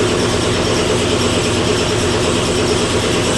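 Vapor blasting cabinet running at 100 psi, a steady, loud, dense hiss and rumble with a faint mechanical rattle, continuous and unbroken throughout with no talking.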